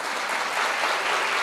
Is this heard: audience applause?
yes